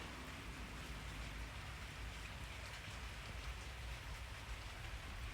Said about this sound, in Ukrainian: Так, на дворі це такий дощик. От тільки-тільки спустився.